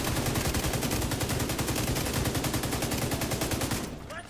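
Rapid automatic gunfire in The Division 2 shooter game, a dense, even burst of shots hammering for about four seconds before cutting off, loud and close.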